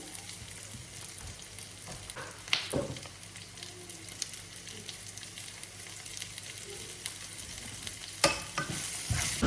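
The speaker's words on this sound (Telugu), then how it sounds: "సో ఆనియన్స్ అయితే ఫ్రై అవుతున్నాయి" Salted onions fry in a pan for paneer masala curry, giving a constant bright sizzle with a few sharp spoon scrapes and knocks against the pan scattered through it.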